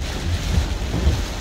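Torrential rain during Cyclone Shaheen in Muscat, a dense continuous roar of downpour with deep rumbling gusts underneath, loud and close.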